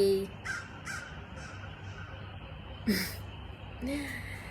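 Crows cawing outdoors, a series of rasping caws at a moderate distance that repeat through the clip, with a brief breathy sound near the microphone.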